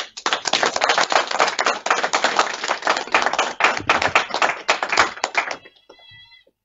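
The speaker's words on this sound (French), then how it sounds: "je voudrais qu'on applaudisse ça très fort." Dense, loud applause from a large crowd at a COJEP congress, steady for several seconds before abruptly dying away into a faint tone.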